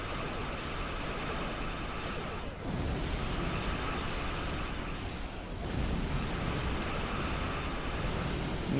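Explosions in a video game roar as a dense, continuous wall of loud blasts and rumbling debris, briefly dipping around the third second before surging again.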